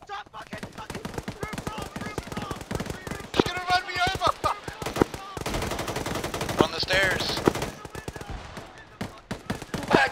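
Rapid bursts of automatic gunfire in the military shooter game ArmA 3, loud and close, crackling in dense volleys through most of the stretch, with excited voices talking over parts of it.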